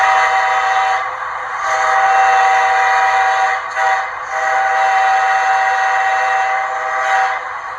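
Highway-crossing horn pattern from an Aristocraft PA model diesel with a Zimo sound decoder, a loud sustained horn blown in several long blasts separated by short gaps, with no talk.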